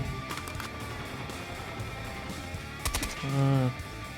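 Brief clusters of gunshots in a Call of Duty: Mobile match with a KSP 45 weapon, a few sharp cracks in quick succession over a low background din, no talk.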